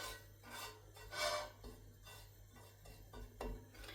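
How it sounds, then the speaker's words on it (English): Cumin seeds and cardamom pods crackle and pop in a hot frying pan for a chicken and mushroom curry, giving scattered light, irregular pops over a quiet sizzling hiss. "I'm just starting to hear those little seeds popping now"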